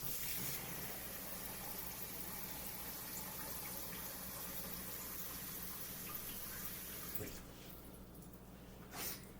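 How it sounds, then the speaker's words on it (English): Tap water gushes steadily into a cooking pot in a home kitchen, a continuous rushing pour that stops near the end, leaving quieter room sound with a faint knock. "Got to get water to put in there so I can get this stuff going."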